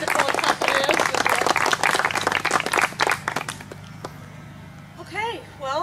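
An audience at an Anne Frank memorial garden celebration applauds an accompanist with dense clapping that thins out after about three seconds, followed by a brief voice speaking near the end.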